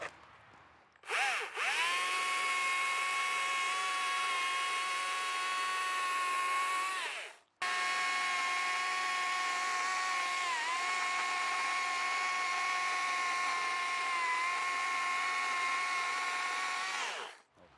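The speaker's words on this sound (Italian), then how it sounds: "Si vede che la usi la motosega." A chainsaw carving a wooden mushroom sculpture runs at a steady high whine for several seconds, cuts out briefly, then revs again for a long continuous stretch, loud and close.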